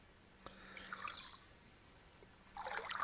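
Water sloshing and dribbling in a gold pan holding fishing weights, faint swirls and trickles in two short bursts, quiet and close.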